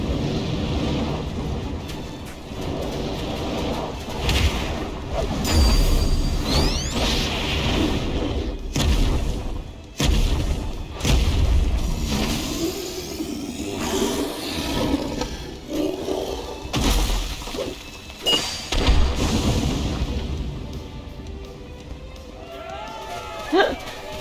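Fireworks burst in the video game Final Fantasy XIV during the Moonfire Faire festival: repeated booming explosions and crackles come in irregular bursts, dense and loud, over game music and ambience.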